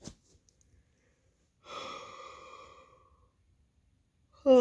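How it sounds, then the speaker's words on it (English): A pregnant woman lets out a long, drawn-out yawn after a brief breath, the breathy exhale fading slowly in a quiet room before a short vocal sound at the end. "Oh, I'm so tired of yawning all the time."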